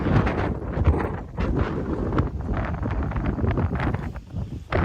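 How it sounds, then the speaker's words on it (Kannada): A strong spring wind in a Texas park gusts against the microphone as a continuous, loud, close roar with rustling bursts, rising and falling without pause, and no voices. "ಸ್ಪ್ರಿಂಗ್ ಸ್ಟಾರ್ಟಿಂಗಲ್ಲಿ ಹೀಗೆ ತುಂಬ ಗಾಳಿ ಇರುತ್ತೆ ನೋಡ್ತಿರ್ಬೋದು ಅನಿಸ್ಕೊತಿರ್ಬೋದು ಎಷ್ಟು ಗಾಳಿ ಎಷ್ಟು ಶಕ್ತ ಇದೆ"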